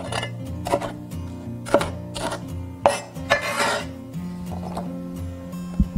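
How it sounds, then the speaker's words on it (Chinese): Green and red peppers being chopped with a knife on a board, several sharp, close knocks at uneven intervals over a faint background hum. "再切一点青红椒，等一下用来搭配"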